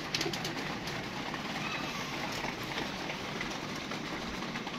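Soft coos from domestic pigeons drift through a constant background hum, with a few faint bird calls at a moderate distance.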